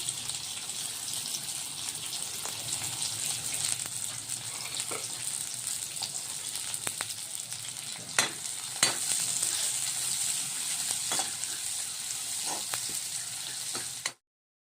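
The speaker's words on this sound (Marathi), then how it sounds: "आता हा कांदा टाकायचा आहे आपल्याला।" Sliced onions sizzle loudly in a hot pan as fried rice is started from leftover rice, a continuous frying hiss broken by a few sharp clinks and stirring scrapes, close up with no talk.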